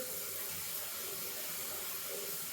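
Water pours steadily from a tap into a sink, a continuous, even hiss and rush that stays constant throughout with no talking.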